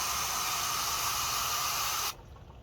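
A hand-pumped sprayer puts out liquid fertilizer in one steady, loud hiss for about two seconds, then cuts off abruptly to faint background noise.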